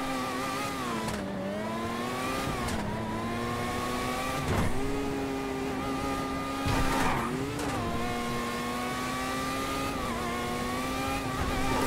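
F1 race car in a video game, its high engine whine holding steady with pitch dips and rises through gear changes, plus a couple of brief tire-squeal bursts, loud and continuous with no talk.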